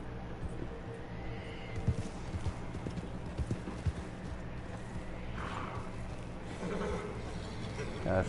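Horse hooves clip-clop at a steady galloping rhythm in Red Dead Online, fairly close and continuous, with faint bleating animal calls and brief background voices.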